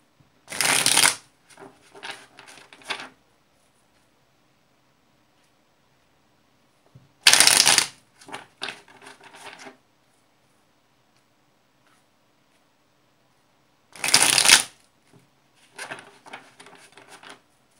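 A tarot deck is shuffled in three loud, close riffling bursts spaced several seconds apart, each followed by softer taps and card handling in a quiet room.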